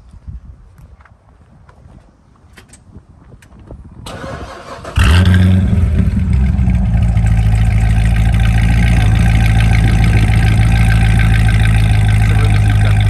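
A Corvette Z06 with a 7-litre V8 of over 500 hp fires up after a quiet moment, then settles into a loud, deep idle with rumbling revs, close by.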